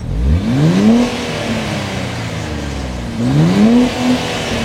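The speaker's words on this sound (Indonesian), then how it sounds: "Sekarang kita akan dengar gimana suaranya ketika digas" A Nissan Fairlady Z Nismo's turbo V6 engine revs up twice in Sport Plus mode, each sharp rise in pitch settling back to a steady idle between; close and loud, with no talking.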